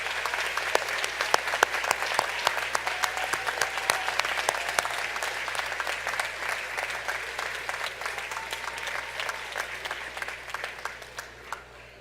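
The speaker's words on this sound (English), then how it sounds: "Candidates, would you please recognize those who have helped you with your applause?" At the 2018 Purdue Northwest commencement ceremony, graduates applaud their families in a large hall, a dense, sustained wash of many hands clapping that stays loud and steady before easing off at the end.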